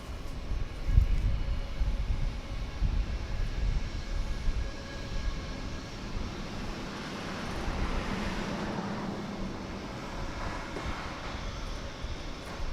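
A Spirit Airlines jet taxiing at Dallas Fort Worth Airport, a steady, distant engine roar with low rumble that swells and eases slightly over several seconds, alone without voices.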